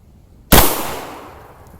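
A single shotgun blast firing steel BB shot at a target, a sharp, loud crack that rings out and decays over about a second in otherwise quiet surroundings.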